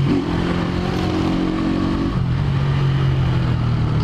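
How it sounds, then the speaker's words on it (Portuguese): A motorcycle approaching on a city street during a motoboy delivery ride, its engine droning steadily and shifting pitch midway, loud and continuous over road and wind noise. "Tá vindo a moto."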